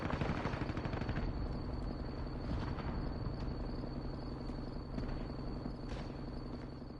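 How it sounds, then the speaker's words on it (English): Gunfire in Call of Duty Warzone on PS5: rapid bursts of shots over a constant loud rumble like a helicopter rotor, with sharp cracks at irregular intervals. "That's me shooting behind you"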